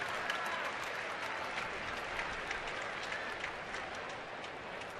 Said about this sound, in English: And he gets a smattering of applause.